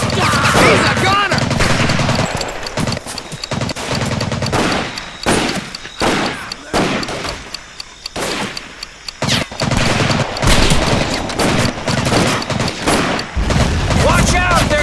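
Sustained machine gun fire from the Medal of Honor: Pacific Assault battlefield, loud and near, with rapid bursts broken by short pauses and heavy booms, while soldiers shout over the shooting.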